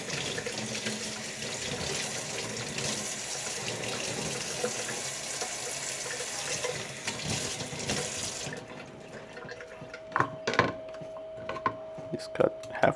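Green onions rinsed under a running kitchen tap, a steady close hiss of flowing water for several seconds that cuts off, followed by scattered handling knocks and light clatter, with no talk.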